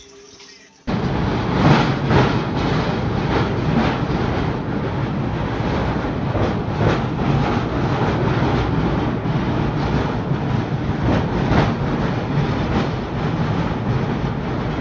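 A moving passenger train heard from beside its open door on a misty morning run toward Visakhapatnam, a loud steady rumble and rattle of wheels on track with rhythmic clatter, continuous and close after a brief quiet start.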